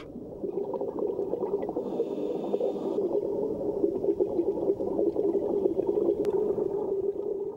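Underwater in the sea around Funafuti island, Tuvalu, with a steady muffled churning and bubbling wash, continuous and fairly close, with no voices.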